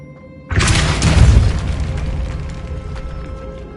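A Depulso spell in the Hogwarts Legacy video game sets off a single loud, close blast with a sharp onset and then a long rumbling decay, and no one speaks over it.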